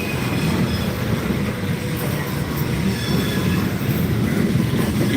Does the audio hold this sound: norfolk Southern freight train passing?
yes